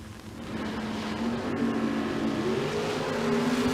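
Roadster bracket racing at Tucson Dragway: a steady, loud engine drone with a rising tone toward the end as the car accelerates down the strip, no talk over it.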